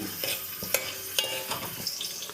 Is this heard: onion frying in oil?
yes